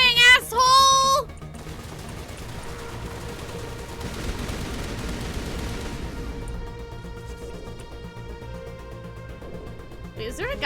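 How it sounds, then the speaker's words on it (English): Sustained gunfire rattles through a Mass Effect firefight, a dense, steady stream of shots that runs for several seconds at close range, with a sharp burst at the start and a brief voice under the noise. "Just keep firing, asshole!"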